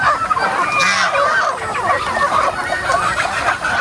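Many chickens fill a backyard farm with dense overlapping clucks and squawks, loud and close, along with a few deeper honking calls.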